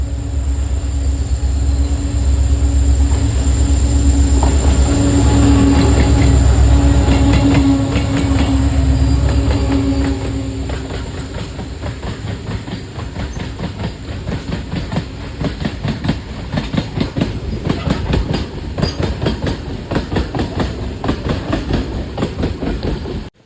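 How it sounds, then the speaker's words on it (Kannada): A train rumbles past on the railway track near Dudhsagar Falls, loud at first then giving way to rapid rhythmic clicking of wheels over rail joints, with no voices. "ಟ್ರೈನ್ ಬರ್ತಿದೆ"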